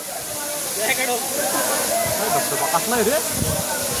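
A waterfall on the Nakhind trek in monsoon season gives a steady, close, full rush of falling water, while someone talks over it throughout.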